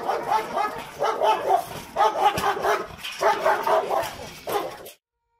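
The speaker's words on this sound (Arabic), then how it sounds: "كلب الراعي الكوكازي بيعتبر من الكلاب الذكية جدا" A Caucasian Shepherd dog barks in five deep, heavy bursts spread evenly across the clip, each a cluster of loud barks with short pauses between, and no other sound.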